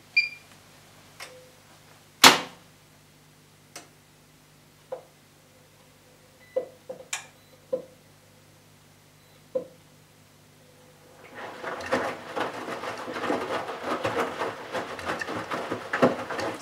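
A Bosch Serie 6 WAQ283S1GB automatic washing machine restarting after start is pressed: scattered clicks and soft beeps from the controls and door lock, then a steady churning rush of water and drum motion swelling in and carrying on.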